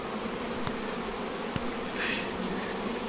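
Honey bees hum in a dense, steady buzz close by around a hive while a bee package is installed, with a couple of faint sharp clicks.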